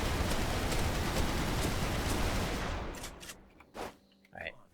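A modded high-capacity gun holding 800 rounds in Dead Island Definitive Edition, firing a dense, continuous automatic roar that is loud and steady for about three seconds, then cuts off, leaving a few scattered echoing thumps.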